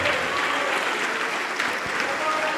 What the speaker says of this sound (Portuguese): E vamos aplaudir mais ao Senhor Jesus,